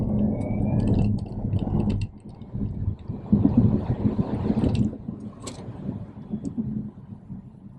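An Alfa Romeo Junior Veloce EV accelerating hard in an acceleration test, with a steady low road and motor rumble and wind noise that swells through the run, recorded from inside the car.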